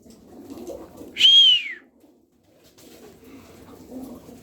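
Turkish tumbler pigeons, a flock of twenty show birds, coo low in a loft, with one brief, louder descending whistled call rising above the soft, continuous murmur.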